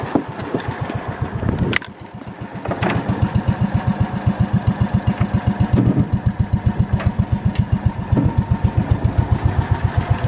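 A John Deere Gator 4x2 utility vehicle engine runs close by, a loud, steady rhythmic chugging idle with a brief dip near the start, then even pulsing firing beats without talk.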